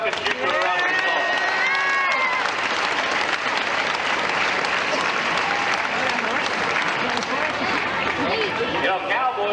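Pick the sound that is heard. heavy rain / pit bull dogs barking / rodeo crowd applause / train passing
rodeo crowd applause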